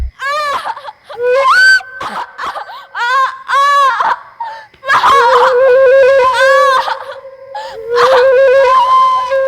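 A young girl screams and wails in long, high, anguished cries from a neighbouring house, rising and falling with brief gaps, loud and close.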